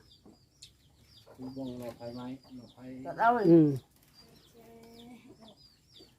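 Chickens clucking in a rural Bru ethnic village in Laos, a string of moderately close clucks with one louder, rising call midway, while a person murmurs quietly in between.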